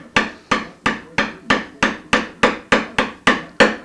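A small, sharp chisel pares end grain on the neck of a replica 1964 Gibson ES-335 guitar, giving about a dozen crisp, evenly spaced cutting strokes that are loud and close, with no voices.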